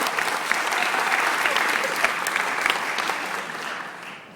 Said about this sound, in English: so let's clap there